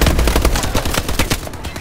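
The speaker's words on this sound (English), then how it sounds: "I have a supply gun." Rapid automatic gunfire from a supply gun in a Call of Duty video game, a loud dense rattle of shots throughout.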